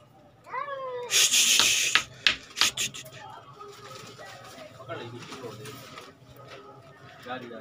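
A cat meows close by in a pigeon loft, a short rising-falling call followed by loud bursts of wing flapping and clattering, with a person talking over the scene.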